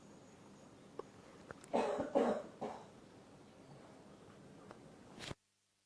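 A few coughs during a quiet yoga session, clustered in a short burst of three or four rough hacks at moderate distance against a soft room hush, with no talking.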